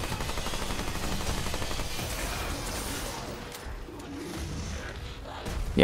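Rapid, sustained gunfire from high rate of fire weapons in the video game Remnant 2 rattles on in a dense stream, easing after a few seconds before a final sharp burst.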